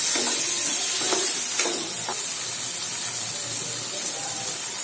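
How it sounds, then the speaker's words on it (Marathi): Chopped tomato being stirred into a pan of spiced frying masala for aloo baingan sabzi: a loud, continuous sizzling hiss with a few soft scraping stirs near the start, close up and with no talking. "बारीक चिरलेला एक टोमॅटो टाकून घेऊया. याला पण छान मिक्स करून घेऊया."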